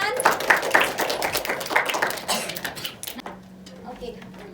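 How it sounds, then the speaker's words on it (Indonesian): Classroom applause from students during a chemistry lesson on acid-base theory, a burst of rapid overlapping claps lasting about three seconds before fading into quiet room tone. "Oke, kita kasih tepuk tangan."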